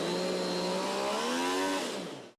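A three-cylinder MV Agusta motorcycle engine revs hard on a dyno in a development room, a loud sustained howl that climbs in pitch before cutting off abruptly.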